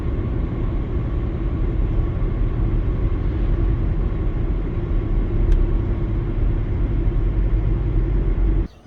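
A car cruising along US Highway 51 in Illinois gives off a steady, loud road rumble and engine drone that holds evenly throughout and then cuts off abruptly near the end.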